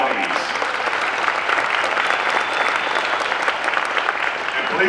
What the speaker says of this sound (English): Give a round of applause for our nominees.